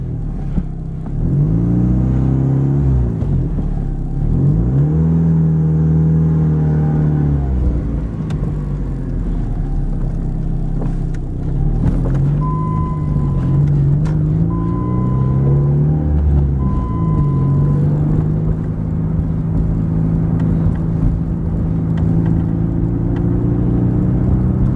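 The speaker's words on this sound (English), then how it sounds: "Let's hit the road and do a little driving. Do a little town driving first." A 2000 Plymouth Neon base model drives through town, its engine humming and rising through the gears in a steady, loud interior drone, with road rumble throughout and no talking.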